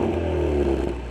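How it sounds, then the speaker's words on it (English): A 2020 Ford Mustang with the optional performance adaptive exhaust holds a steady, loud, deep rumble close by, with a slight rise in pitch partway through and no speech over it. "And that is the performance exhaust."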